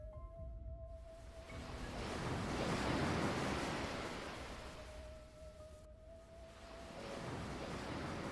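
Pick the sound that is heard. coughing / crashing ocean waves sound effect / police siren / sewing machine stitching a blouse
crashing ocean waves sound effect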